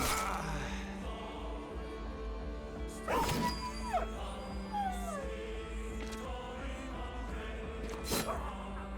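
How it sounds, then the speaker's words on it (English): A dog in the video game Battle Brothers barks and yips in several sharp bursts with whimpering between them, heard over a steady background game ambience. "Oh, the silly dog is coming back."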